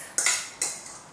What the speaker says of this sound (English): whisk it again